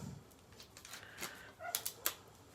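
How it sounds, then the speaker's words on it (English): A dog outdoors gives a few faint, distant yips and whimpers, muffled and intermittent over a quiet indoor background, with some light clicking and rustling nearby. "somebody's dog is outside."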